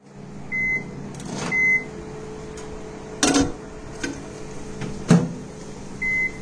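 An oven bakes coconut biscuits, producing a steady low hum with a few beeps and sharp clicks or clunks scattered throughout; no speech.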